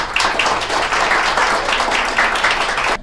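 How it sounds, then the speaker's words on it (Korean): An audience at a gout awareness day ceremony in Korea claps in a loud, close, steady burst of applause that stops abruptly at the end. "박수 부탁드립니다"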